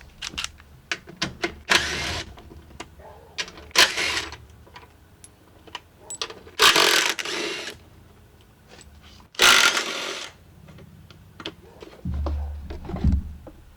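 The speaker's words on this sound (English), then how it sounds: "You have power tools for a reason." A power tool removing bolts from a Honda three-wheeler fires in short, loud bursts between quieter clicks and handling noises, pausing and restarting several times.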